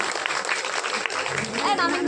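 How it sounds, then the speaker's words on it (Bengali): An audience at a mass wedding ceremony claps, a dense wash of applause at steady loudness, with a voice coming in over it toward the end. "আরো জোরে করতালি।"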